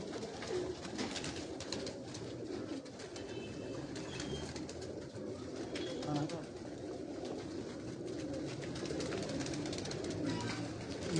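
Pigeons coo on a rooftop in Wazirabad amid a busy, noisy outdoor backdrop, soft low calls surfacing intermittently while people talk nearby throughout.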